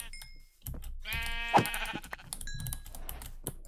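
Several Minecraft sheep bleat in a video game, a prominent harmonic bleat near the middle with fainter ones around it, alongside clicky keyboard-like tapping and game sounds.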